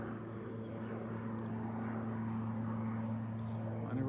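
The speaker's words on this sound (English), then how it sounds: "we're seeing a seaplane taking off" Seaplane taking off near Icy Strait Point, Hoonah, Alaska: a steady propeller engine drone with a constant pitch holds at a moderate distance, growing slightly louder toward the end.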